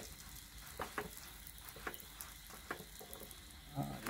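Oil is drizzled onto a paratha frying in a hot pan, giving a steady close sizzle with several short crackling pops spaced through it.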